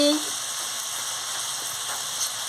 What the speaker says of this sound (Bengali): দিয়ে আনাজটাকে ভালো করে কষিয়ে নিচ্ছি।